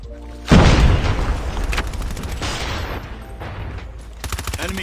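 A frag grenade blows up in a Search and Destroy match of a first-person shooter, a loud close boom followed by rumbling echoes and scattered rapid gunfire.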